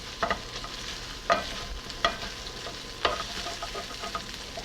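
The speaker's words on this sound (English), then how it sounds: "So we have been deglazing our onions just to transfer the color" Onions deglazed in a hot pan for Alsatian tarte flambée give off a steady close sizzle, with a few sharp stirring scrapes spaced about a second apart and no one talking.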